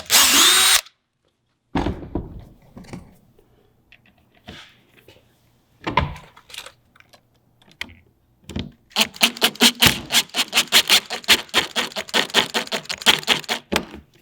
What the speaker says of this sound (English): we're going to use our small bit